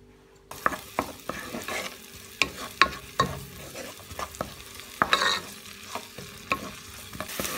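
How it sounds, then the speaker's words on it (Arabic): Onion frying in vegetable oil over a gas flame, a steady sizzle broken by sharp clicks and scrapes of stirring, close and moderately loud with no voices. "بحط زيت نباتي، كمان البصلة، بقليها شوي على الغاز"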